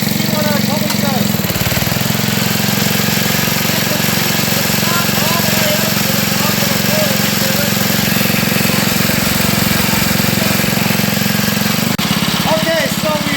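The small engine of an Eaton Viking rototiller runs loud and steady close by, a constant rough drone that shifts slightly near the start and end, with voices talking faintly beneath it.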